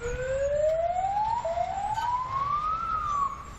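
A fire engine siren wails with rising sweeps that repeat, at a moderate distance over low traffic noise, heard during news coverage of explosions in Crimea.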